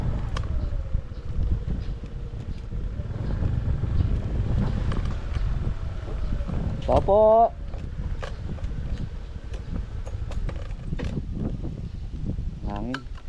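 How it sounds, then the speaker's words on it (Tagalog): Wind buffets an outdoor microphone with a low, rumbling roar that swells and eases, while people talk nearby. "Hangin."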